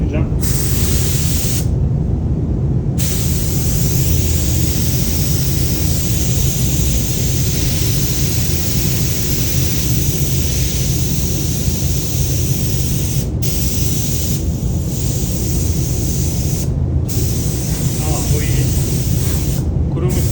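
A paint spray gun hisses continuously and loudly during a local car paint repair. The spray cuts out in a few short gaps, and someone talks over it.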